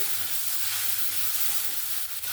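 Onions and cumin fry in a pan for a chicken dish, giving a loud, steady sizzling hiss with a faint scrape of stirring near the end.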